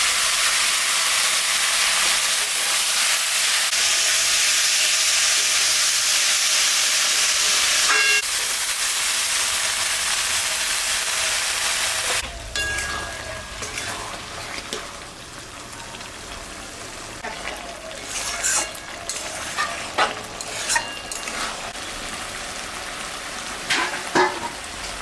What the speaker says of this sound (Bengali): কাঁঠালটা কষানো হয়ে গেছে